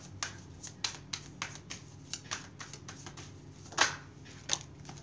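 Tarot cards being shuffled, producing soft, irregular papery riffles and taps with a couple of sharper snaps, close and quiet.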